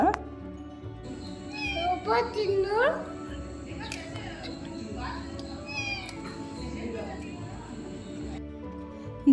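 A cat at a jungle lodge in Sakrebailu meows several times in short, drawn-out cries, close and clear, with people talking throughout and a steady background hum.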